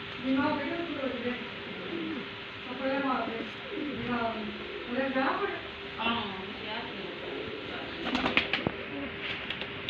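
Pigeons coo in repeated soft, throaty phrases, fairly close, followed by a burst of rustling or flapping near the end.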